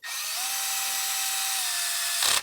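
A power driver runs screws into a Traxxas X-MAXX 8s RC truck, giving a single steady high whine for about two seconds, close and clear, ending in a short ratcheting burst as the screw seats.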